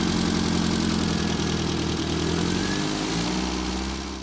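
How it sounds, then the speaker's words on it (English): A 1098 engine from a Mini Clubman runs steadily at a smooth, even idle, close and loud, holding the same low throb before easing slightly at the end. "The engine that I've got is a 1098, and you'll see it in a cutaway now. It runs sweet as a nut."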